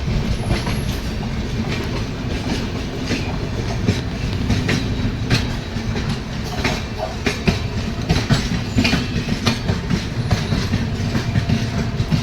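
Malda Town–SMVT Bangalore Special Express rolling past, a loud, continuous rumble with rhythmic clickety-clack of wheels over rail joints and occasional squeals, heard close by.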